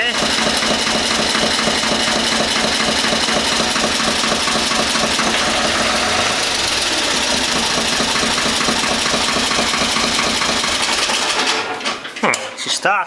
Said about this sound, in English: She starts good. Nice cold start.